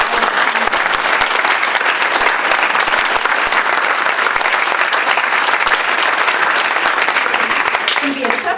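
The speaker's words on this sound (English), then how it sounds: "How about another big round of applause for everyone?" A crowd at a Lincoln City Chamber commissioner candidate forum applauds the candidates in a dense, steady burst of clapping that holds at full strength for the whole stretch.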